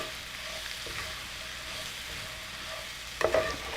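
Vegetables for spring roll filling fry in a pan with a steady, soft sizzle, closer clattering stirs breaking in near the end.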